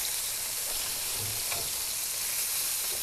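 Food browns in a hot pan with a steady, dense sizzle and frying crackle, broadband and continuous throughout, with a few faint clicks and stirring sounds near and alone, no talk.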